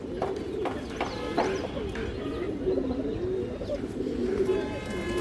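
Pigeons coo softly and repeatedly close by, a steady low burbling with faint rustling around them.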